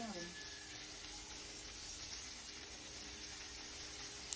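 Dried fish frying with chopped garlic and onion in hot oil, a soft continuous sizzle close by and faint, with a brief voice at the start.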